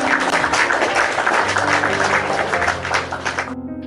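Applause from an audience at an Indonesian Christian church gathering, a dense clatter of clapping mixed with music, loud and close, stopping abruptly near the end as sustained tones continue.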